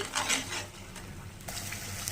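Chana dal and urad dal chutney bubbling in a pan while being stirred, a steady sizzling hiss with scraping spoon strokes, close and continuous.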